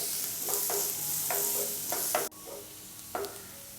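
Sliced onions for an egg curry sauté in a hot pan, a soft steady sizzle broken by repeated scraping and stirring strokes of a spoon, one sharp clack partway through, all close and fairly quiet with no talking.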